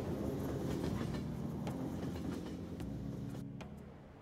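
A train in the video game Persona 5 Royal rumbles and rattles steadily with rhythmic clacks, the sound slowly fading as it comes to a stop, with no voices present.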